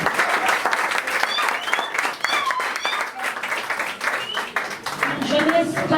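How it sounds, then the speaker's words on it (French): An audience at an event cheering young Cameroonians with sustained, dense applause, loud and close, with a few shouts and whistles rising through the clapping. "Pouvons-nous acclamer la jeunesse que vous êtes cet après-midi?"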